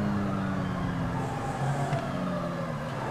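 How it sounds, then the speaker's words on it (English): A police siren wails faintly from behind a car in a video game roleplay, thin and distant over a steady engine drone, with no talking. "Oh, I hear a siren."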